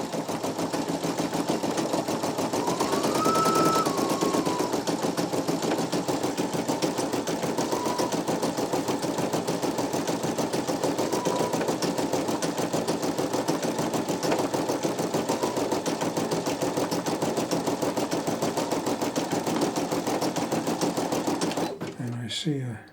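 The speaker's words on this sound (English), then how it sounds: "Now it's doing an underlay stitch." An embroidery machine stitching an underlay pass, running as a loud, steady rapid mechanical chatter that continues almost to the end, with talk faintly audible in places.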